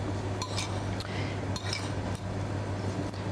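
A spoon works through a bowl of mushroom, tomato, shrimp and mayonnaise salad, with a few light clinks and soft scrapes against the dish over a steady low hum.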